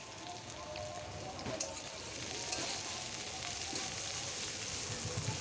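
Carrots and cauliflower sizzle steadily in white oil in a pan, a dense continuous frying crackle with occasional sharper pops, close and even throughout.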